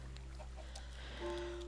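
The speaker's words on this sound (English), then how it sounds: "Here's the chickens." Clucking chickens in Minecraft 1.6.2, a few soft, scattered in-game clucks over a steady low hum, faint and sparse.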